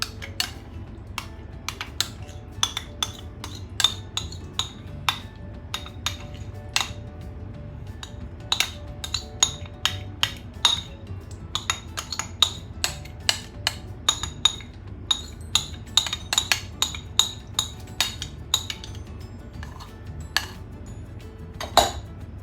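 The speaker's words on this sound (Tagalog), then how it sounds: "ihalo na rin natin tong heavy cream sa ating banana mixture" Heavy cream is mixed into a banana mixture in a bowl for banana cake, with many light, irregular clinks and taps of a utensil against the bowl over a quiet background.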